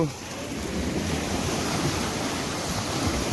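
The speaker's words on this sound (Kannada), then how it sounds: "ಸಡನ್ನಾಗಿ ದೊಡ್ಡ ದೊಡ್ಡ ಅಲೆಗಳು" Steady roar of big ocean waves breaking where a river meets the sea at Kodi Bengre, a broad continuous rush of surf mixed with wind noise, no voices.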